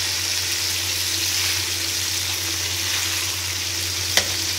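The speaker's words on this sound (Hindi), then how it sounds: "मेरी मिर्चें बिल्कुल ऑलमोस्ट रेडी हैं, फ्राई हो गई हैं। मैं इनको हल्का सा पलटूंगी" Stuffed green chillies frying in a pan give a steady, close crackling sizzle that runs unbroken, with one sharp tap of a utensil near the end as they are gently turned; no talking.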